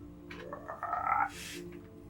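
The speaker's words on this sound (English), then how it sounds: "you hear a little croak from just up ahead of you." A frog croaks in a fantasy tabletop game scene, a single drawn-out, throaty croak rising and wobbling near the middle, followed by a brief hissing burst, alone with no talk.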